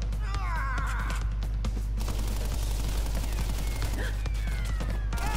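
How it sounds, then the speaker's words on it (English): Gunfire in Crash Bandicoot N. Sane Trilogy, a rapid volley of sharp bursts amid busy game effects and music, continuous and loud. "Surprised none of these bullets are hitting us."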